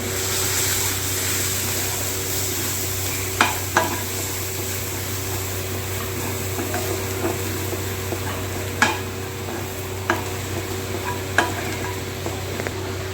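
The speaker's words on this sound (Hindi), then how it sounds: "अब इसे अच्छे से हम भून लेंगे।" Ground spice masala with cumin and red chilli powder roasts in a pan, a constant close sizzle broken by occasional scraping taps of a spoon against the metal, under a steady low hum.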